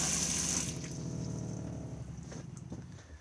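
Water runs from the sink tap in a 2021 Benimar Tessoro T413 motorhome, a steady close rush that is strongest at the start and then eases to a quieter continuous flow.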